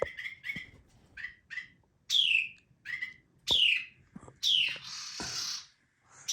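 Close, clear bird chirps in short repeated bursts, with sharper downward-sweeping calls mixed in, over an otherwise quiet background in a garage during a car exhaust install.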